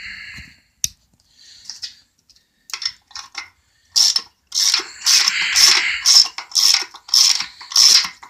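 Ratchet wrench turning bolts while fitting new intake seals on a Harley-Davidson Sportster engine, crisp close clicking in a quick series of ratcheting bursts after a few scattered taps.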